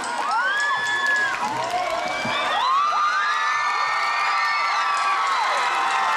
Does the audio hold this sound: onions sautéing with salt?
no